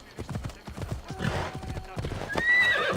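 A horse ridden in Assassin's Creed Odyssey, with rhythmic clip-clopping hooves up close, a whinny, and game sounds layered over the gallop.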